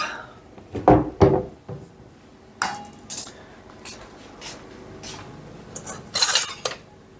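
A metal sieve and kitchen utensils are handled while making a rhubarb sponge: a series of sharp metallic clinks and clatters in irregular bursts, close and fairly loud, with quieter rustling between.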